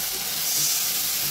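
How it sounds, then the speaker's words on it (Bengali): Vegetables frying in a pan for a fish curry give a steady, close hiss that holds evenly through the short stretch, with no one talking. "সবজিগুলো একদিকে ভাজা হচ্ছে"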